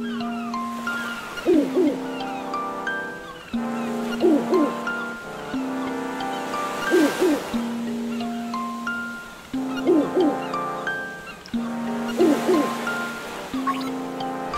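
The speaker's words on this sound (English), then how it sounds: "Okay, owl." An owl hoots in the Game Boy game Legend of Zelda: Link's Awakening, with repeating hoots over looping chiptune music and synthesized melodic tones.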